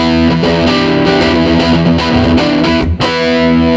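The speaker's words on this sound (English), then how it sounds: "Let's hear what it does to the distortion" Electric guitar played through an Electro-Harmonix Big Muff Pi with Tone Wicker, loud and thick with fuzzy, sustained distortion; chords ring continuously with a short break near the end before a fresh strike.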